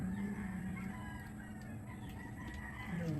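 Several chickens cluck and murmur nearby, with a rooster crowing in the background amid a busy farmyard hum.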